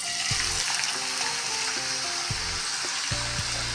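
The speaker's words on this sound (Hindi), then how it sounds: "तो अब हम इसमें डालते हैं अपनी ये प्याज।" Onions go into hot oil already holding chillies, curry leaves and a tablespoon of cumin for kadhi pakora, sizzling in a steady, close frying hiss with a few soft stirring knocks and no talk.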